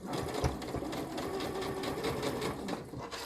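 A sewing machine stitches a side seam on NHS scrubs, its steady rapid whirring running close and loud with brief pauses, alone without talk.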